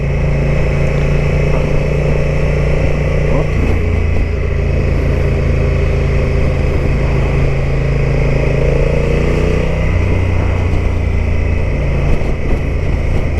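A Honda motorcycle engine drones steadily and loudly on the road, a sustained mid-pitched hum with slight pitch shifts as it cruises, wind rush underneath and no voices.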